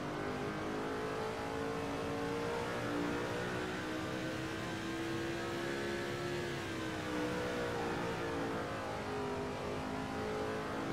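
A NASCAR-style race car engine in a racing video game revs in a steady, loud drone, its pitch rising and falling gently throughout without any talk.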